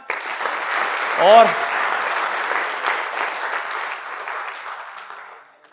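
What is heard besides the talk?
audience applause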